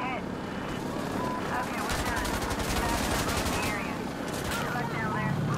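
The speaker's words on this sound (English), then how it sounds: "That's the fastest gun run I've ever seen." An aircraft gun run strafes the map in the tactical shooter Insurgency: Sandstorm. It comes as a fast, rattling burst of rapid distant fire with dull booming impacts under a low background rumble.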